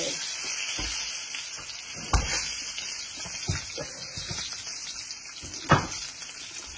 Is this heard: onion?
yes